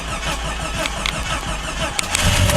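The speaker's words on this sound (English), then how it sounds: "Took a few cranks, but she started." A Jeep Wagoneer XJ with a repaired fuel issue cranks and cold-starts. The starter churns noisily with squealing, and the engine builds to a louder running roar at the end.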